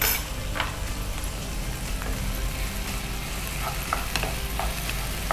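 Garlic and ginger fry in hot oil in a pan, a loud, steady sizzle with occasional scraping stirs and small crackles throughout, no voices over it.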